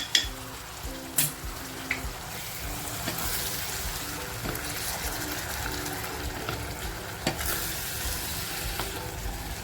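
A tomato, mint and green chilli purée hits hot oil in a frying pan, steady sizzling and stirring with a few utensil knocks against the pan, close and without talk.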